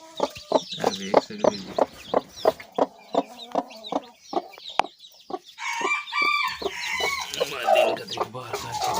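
Backyard chickens cluck in a rapid, regular series of sharp close calls, followed by a rooster's crow and more mixed clucking, with someone speaking briefly over the birds.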